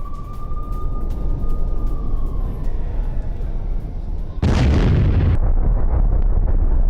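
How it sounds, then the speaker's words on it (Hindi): Outside a museum, an explosion erupts as a sudden, loud blast midway through news footage, followed by a sustained roaring rumble after a stretch of quieter background noise. "एक म्यूजियम के बाहर जोरदार धमाका हुआ है।"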